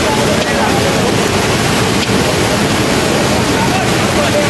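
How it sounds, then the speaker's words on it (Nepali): Heavy monsoon rain pours beside a swelling river at a flood-damaged site, a loud, unbroken broadband roar of water and downpour filling the scene throughout. "निकै ठुलो पानी परिरहेछ, खोला बढ्दैछ है।"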